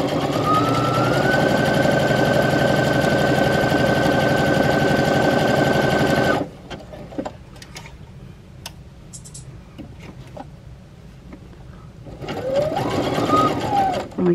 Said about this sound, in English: And then we will sew the elastic on.